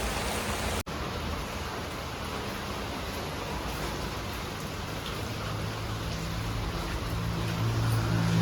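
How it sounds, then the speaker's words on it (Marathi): Heavy rain pours steadily, a thick, even hiss of drops hitting surfaces close by, unbroken for the whole stretch with no one speaking. "पाऊस खूप पडतोय बाहेर"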